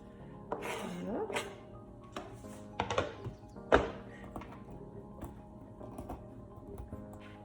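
A block of Marseille soap being cut into small pieces on a hard surface, giving scattered soft thunks and taps with quiet pauses between, close and fairly faint.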